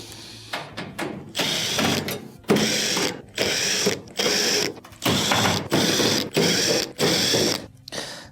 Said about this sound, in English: There are multiple Phillips screws around it that'll have to be taken out.